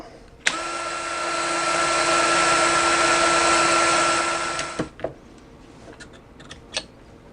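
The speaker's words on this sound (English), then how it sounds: "We're going to use a drill to help us try to clean that." A power drill whirs steadily for about four seconds while spinning an engine cylinder-head part to clean it, then winds down, followed by a few scattered clicks and knocks.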